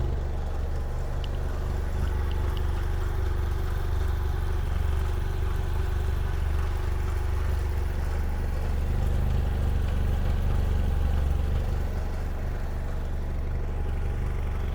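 A 2017 BMW F 800 GS Adventure motorcycle idles steadily for the whole stretch, a low continuous exhaust rumble with no speech over it.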